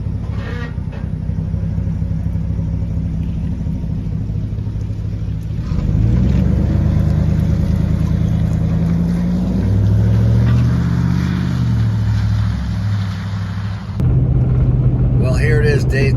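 A truck rig on a long road trip toward the Arctic Ocean on the Dempster Highway gives a steady, loud engine and road rumble throughout, with a slight shift partway through.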